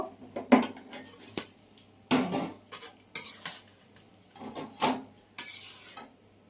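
Cooked bottle gourd leaf chorchori is scraped and tipped out of a metal pot in a small kitchen, with repeated clanks and spoon scrapes in irregular bursts, fairly close and moderately loud.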